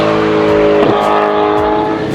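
A supercar fitted with a Novitec exhaust system roars loudly and close, with a sustained engine note whose pitch sweeps and shifts as it revs, with no talking.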